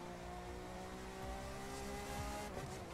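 A car drifting in The Crew 2 racing game, with a steady engine drone and faint tire squeal layered under a constant hum, moderately loud and continuous throughout.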